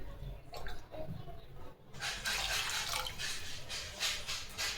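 Water is poured into a pan of rice on a lit stove while cooking paneer biryani, a soft continuous splashing stream that swells after a brief quiet pause.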